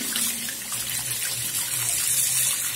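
A running tap fills and splashes steadily as water wets a makeup brush, a continuous close gush with no talk.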